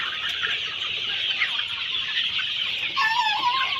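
Chickens and roosters on a poultry farm cluck steadily and densely throughout, a continuous flock chatter with a few louder calls near the end and no talking.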